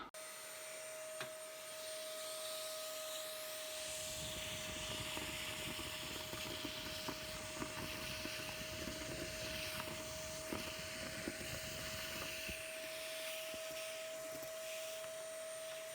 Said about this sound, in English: it'll just vacuum out all the dust